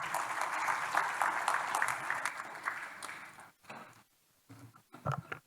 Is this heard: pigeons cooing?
no